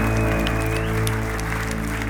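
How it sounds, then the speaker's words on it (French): Loud, sustained applause from a congregation at a church worship service, continuous throughout and layered over held instrumental chords. "Est-ce qu'on peut applaudir encore plus fort le roi des rois?"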